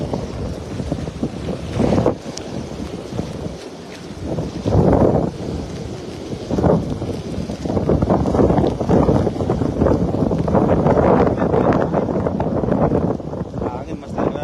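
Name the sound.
strong wind at sea on a fishing boat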